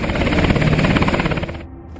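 A loud, close helicopter drones with a steady rapid rotor chop, holding constant before easing off slightly near the end; no talk.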